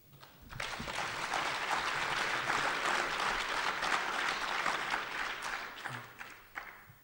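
Debate audience breaks into steady, fairly distant applause that swells quickly, holds for several seconds and then tapers off, with little talk over it.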